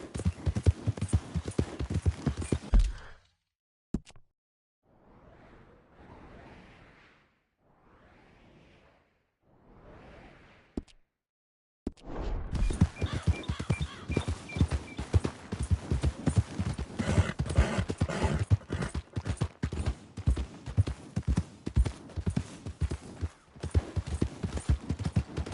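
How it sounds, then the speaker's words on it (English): Horse hooves clip-clop in the video game Red Dead Redemption 2, starting as a dense run of hoofbeats, fading out to a quiet stretch with soft whooshes, then returning as a busy, fairly loud rhythmic clatter. "Hey! My horse!"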